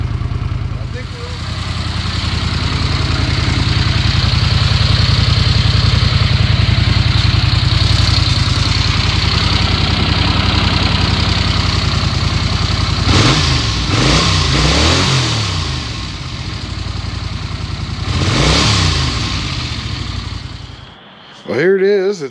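Engine of a 1982 Honda Silver Wing GL500 motorcycle, loud and close, idling steadily for a long stretch, then several sharp throttle blips and revs near the end.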